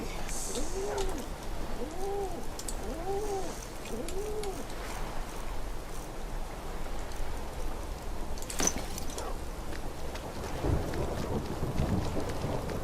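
Steady rain and a low rumble of thunder in the video game Skyrim, with birds cooing softly in the first few seconds and a sharp crackle near the end, all at an even, moderate level.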